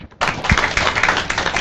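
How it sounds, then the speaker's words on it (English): A lecture hall audience breaks into clapping for a guest speaker, a sudden burst of many hands that starts sharply and continues as a dense, even patter close by. "Please clap for her."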